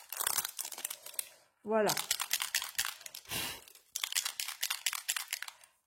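Crinkly packaging being unwrapped for a Spectrum Noir Sparkle product, with bursts of crackling and crumpling plastic close by, broken up by a short gap and a brief spoken word.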